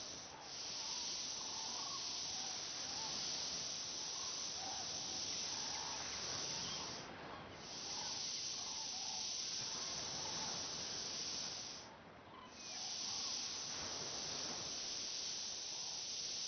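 A paint sprayer laying down paint while decorating a Nakatomi Plaza build, a continuous bright hiss that stops briefly twice and resumes, steady and fairly close, with no talking.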